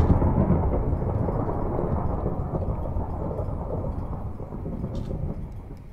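Thunderstorm in Minecraft 1.12.2 with a storms mod: a loud, continuous rumble of thunder with heavy rain, slowly fading and then swelling again, with no talk.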